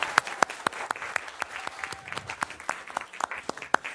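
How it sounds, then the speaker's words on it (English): Audience applause for part-time city staff at an evening city council meeting in West Covina, a steady patter of many hands clapping in a hall, with a few sharper nearby claps standing out throughout. "Let's give them a big round of applause."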